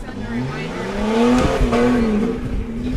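Autocross race cars on an ice track at a Glenwood, Minnesota arena event, engines revving with tires skidding as one car is tapped and spins, a steady roar with a rising swell in the middle under a faint announcer.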